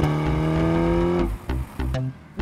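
A 2015 Ferrari California T with a twin-turbo V8 accelerates hard, its engine note climbing loudly through the revs before sharp gear changes break it into short bursts, close and with no talking.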